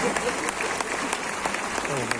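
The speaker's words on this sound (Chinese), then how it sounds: "我们掌声不断" A crowd at an award ceremony for a scripture-reading competition at Kun Shan University of Science and Technology in Tainan claps steadily, a dense, continuous patter of many hands that stays even throughout.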